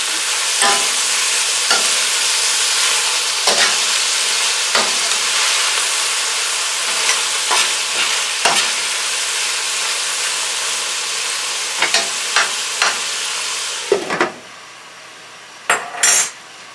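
Chicken stew cooks in a pot, giving a constant hissing sizzle broken by scattered scraping clinks as the pieces are turned, and the sizzle drops away near the end before a few more knocks.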